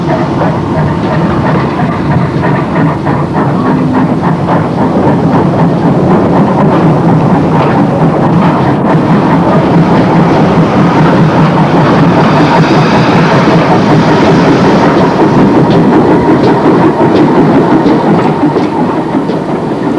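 The Monmouth auto train on the 1959 Wye Valley Railway pulls out, with a steady loud rumble and rhythmic wheel clatter running continuously throughout.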